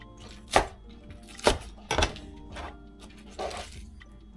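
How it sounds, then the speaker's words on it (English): Green onions being chopped with a knife on a board, five separate close thuds at irregular intervals, with no voices. "So we're gonna cut us up some green onions."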